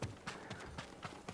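A horse galloping and jumping in Ghost of Tsushima, with a quick run of hoof thuds about every quarter second, close and fairly quiet, and no voices.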